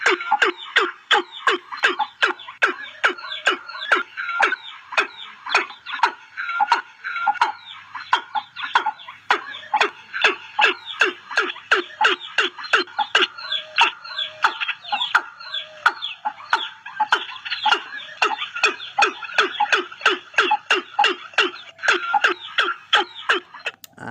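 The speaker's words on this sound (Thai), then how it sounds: "นี่คือเสียงนกอีลุ่มนะครับหรือนกตูมนั่นเองนะครับ" A watercock gives a long series of deep, rapid repeated calls, steady and rhythmic, fairly close, continuing without pause.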